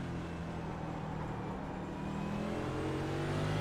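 NASCAR stock car engines race in iRacing on the Nordschleife, a steady, loud blended engine drone of several cars running through tight, twisty corners, continuous without talk.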